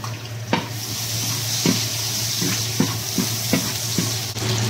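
Onion sautéing in a pan for a squid and vegetable dish, a steady sizzle with a low hum beneath and a few sharp scrapes of stirring spaced through it, close and fairly loud.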